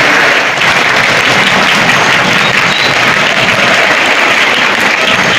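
Loud, sustained applause from a large audience welcoming actor Dhamu onto the stage at an educational event, a dense steady roar of clapping throughout with no break.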